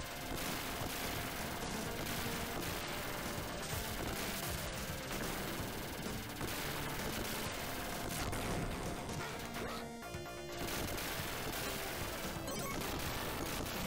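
Homing shots firing nonstop in the video game Gunstar Heroes, a dense, loud barrage of rapid blasts and crashes packed under game music with no let-up.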